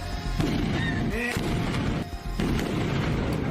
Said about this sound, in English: That's a big old explosion.